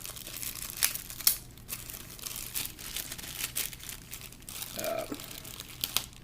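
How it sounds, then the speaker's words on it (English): Packaging on a boxed Aomais Go Mini Bluetooth speaker crinkles and rustles as the box is opened, with a few sharper tearing bursts of tape, close and fairly quiet, with no talking. "So let me open this up."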